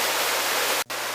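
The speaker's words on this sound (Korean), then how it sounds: "물 흐르는 소리만 들어도 시원한 수락산 청학동 계곡의 모습입니다" Steady dense rush of stream water flowing over rocks in Suraksan's Cheonghakdong valley, loud and continuous apart from a split-second dropout near the end.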